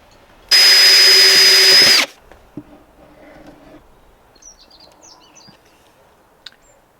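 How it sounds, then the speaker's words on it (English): A power drill whines loudly for about a second and a half drilling holes in wood, then stops, followed by quiet shuffling and a few small knocks. "So we're going to drill holes and screw them in place from underneath"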